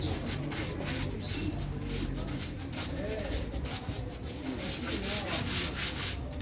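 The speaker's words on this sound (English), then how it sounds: "We are scrubbing." A terrazzo floor being scrubbed by machine: a steady, close rubbing and sanding hiss that carries on without a break, with faint bird cooing in the background.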